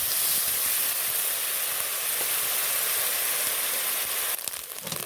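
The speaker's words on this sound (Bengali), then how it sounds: "এবার দেবো ভালো করে পেঁয়াজটাকে ভেজে নিতে হবে তেলের সাথে" Onions frying in oil in a home kitchen, a continuous hissing sizzle that stays steady and fairly loud, with a short clatter near the end.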